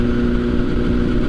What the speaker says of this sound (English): You have that wonderful exhaust note.